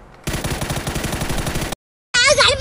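Rapid automatic gunfire in the video game PUBG rattles in a fast, loud burst lasting over a second, cuts off briefly, then resumes with a different harsh, ringing tone.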